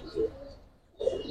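Two rolling coos from Giribaz pigeons kept together with bigger birds, one short burst then a longer one after a brief quiet gap, close and clear.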